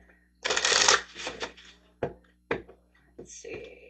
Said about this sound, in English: getting some moon cards out